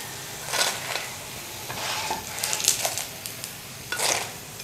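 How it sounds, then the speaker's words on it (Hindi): Snacks fry in a pan, with a soft continuous sizzle broken by several brief bursts of hissing and scraping as they are stirred and turned, close and moderately quiet, with no talk. "बाकी के भी हम इसी तरह फ्राई कर लेते हैं।"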